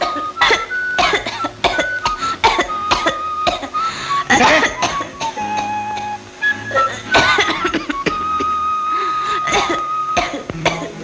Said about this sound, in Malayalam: മോളെ മോളാണോ ചുമച്ചത്?